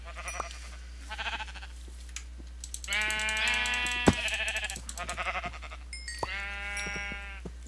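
Sheep in Minecraft on the Forgecraft modpack bleat several times in wavering, nasal calls, separated by short pauses, with faint clicks and game sounds between them.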